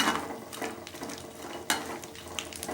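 Almonds, cashews, pistachios, figs, dates and raisins being stirred and fried in ghee in a kadhai, with steady dry scraping and light rattling of the nuts against the pan, fairly quiet and without talk.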